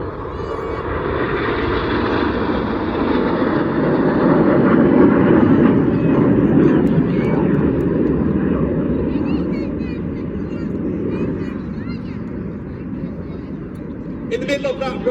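Aerobatic display jets flying in formation produce a loud, sustained roar that swells to a peak midway and then gradually eases off, with a commentator talking over it throughout.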